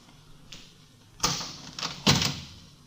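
A door opened in an old-time radio drama: a faint click followed by two sharper creaks and thumps of the door moving and swinging, close and distinct against a quiet background.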